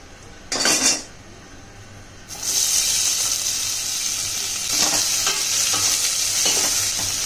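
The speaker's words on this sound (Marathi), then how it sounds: "कांदा आपला चांगला तळून घ्यायचा आहे." Chopped onion frying in a pan with cumin and cashews for vegetable pulao, a steady close sizzle with brief stirring clatter of a spoon against the pan, no talking.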